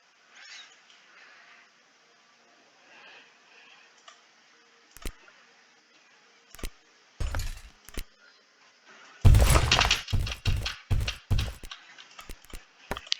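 Sparse clicks and taps on a computer keyboard come close and intermittently, then cluster into a rapid burst of sharp clatter before thinning out again, while playing Age of History 2.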